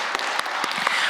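A church congregation at a dawn prayer service applauds the choir, a dense wash of overlapping claps at steady volume.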